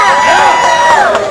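Crowd at the United in Freedom political rally cheering and shouting together, a loud dense roar of many voices, brief and sustained.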